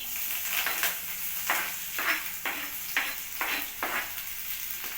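Garlic fries in hot oil with a steady sizzle, while a spoon stirs the pan in regular strokes roughly every half second, each stroke adding a scraping swish. The pan sounds close and there is no talk.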